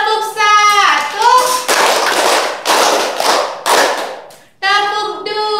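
Children in a primary-school microteaching class clap a rhythmic chant pattern, with several bursts of broadband claps between stretches of sung or called-out voices, loud and close, with voices leading in and closing the pattern.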